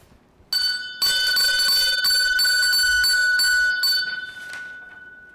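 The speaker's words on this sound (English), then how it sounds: "Ring the bell. Ring the bell." A bell is struck in a quick run of bright, ringing strokes for a few seconds before the tone decays, with no talk over it.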